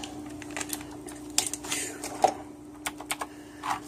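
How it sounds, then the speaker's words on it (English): Clicky keystrokes on an Azio MK Retro mechanical keyboard, scattered, irregular taps at close range with short pauses between them, fairly quiet and with no voices. "So, got a little typing on it."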